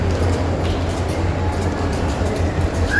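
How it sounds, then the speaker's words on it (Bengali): A moving train heard from on board, giving a steady, loud low rumble with continuous rail noise throughout and no talk. "হাইরে ট্রেন কত দূরে চলে যায়"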